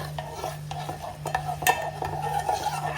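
Ingredients for a homemade hair oil roasting and being stirred in hot oil in a pan, with a steady soft sizzle under repeated scraping and clinking strokes of a spoon against the pan.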